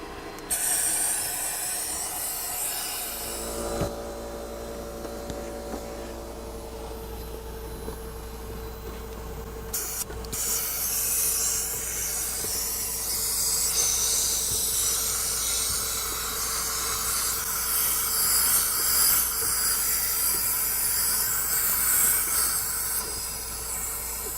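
Compressed air blowing through the HVAC system of a Ford Edge: a steady, loud airy hiss with a low rumble, briefly cut near the start and again around ten seconds, then continuing strongly to the end.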